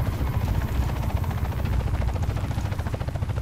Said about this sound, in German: Jetzt kommt der Heli.